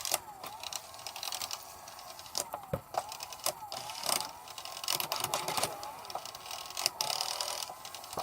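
A Sears VCR with a faulty idler pulley rewinds tape, giving a steady mechanical whir studded with irregular clicks and ticks, fairly quiet and without talk.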